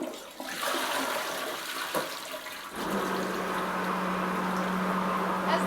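A Saniflo upflush toilet in a basement bathroom flushes with a rush of water, then its macerator pump kicks in with a loud, steady whirring hum that continues to the end.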